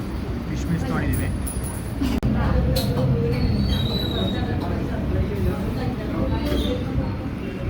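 A train at Kannur railway station in Kerala rolls past with shrill wheel squeals over a continuous low rumble, fairly loud and close, with voices faintly mixed in.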